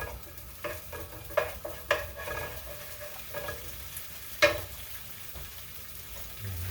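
Cilantro stalks toasting in a pan, giving a soft steady sizzle broken by a few sharp clinks and scrapes of a utensil stirring against the metal, close and fairly quiet.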